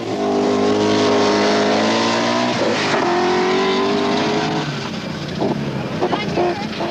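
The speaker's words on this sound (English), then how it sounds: "with over 300 horsepower under his foot, away goes Graham Elsmore in the trial" A 300-horsepower rally car accelerates away on a 1979 Manx Rally stage, its engine loud and close, climbing through gears with rising, falling revs, while a commentator talks over it.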